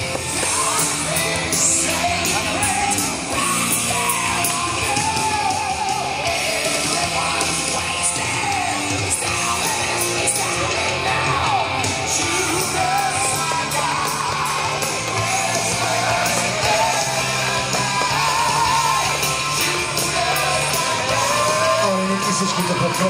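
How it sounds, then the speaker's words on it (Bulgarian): A crowd at an outdoor strongman competition in Kavarna cheers and yells steadily, a loud dense roar of voices and whoops sustained throughout with no break. "Аплодисменти"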